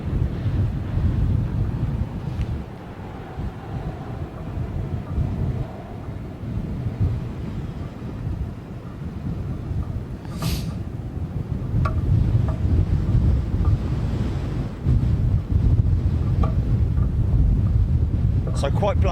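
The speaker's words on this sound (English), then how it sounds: "So quite blustery, but it is a well, it is sort of like southwesterly, isn't it?" Strong, gusty southwesterly wind buffets the microphone at Heathrow airport, a steady loud low roar with surges and no clear breaks.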